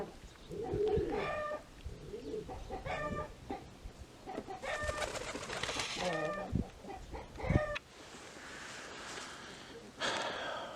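A bird calls repeatedly with harsh, rhythmic clucking and chattering phrases, fairly close, in several bursts over a quiet background.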